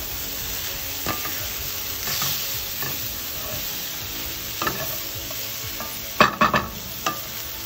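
Sliced purple cabbage and red pepper sizzling in a pan for a rainbow curry, a soft steady fry broken by a few scraping stirs and clacks of a utensil, growing busier near the end.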